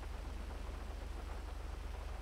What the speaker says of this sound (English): Ah, damn it, it's raining.